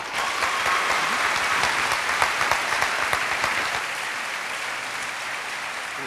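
Steady applause from an audience, dense clapping that carries on for several seconds at an even level.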